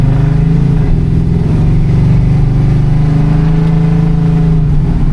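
A 1967 Chevrolet C10 pickup with a swapped LS V8 accelerates under load, its engine a loud, steady low drone held close and continuous with no talk.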